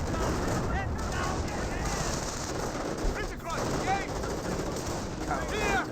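Bursts of .30 cal machine gun fire and other gunfire in a Company of Heroes battle, steady and dense throughout, with a voice talking over the combat din.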